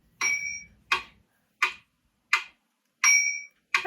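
Metronome ticking at an Andante tempo of about 85 beats per minute, giving steady, evenly spaced, sharp clicks, clear and close with nothing else sounding.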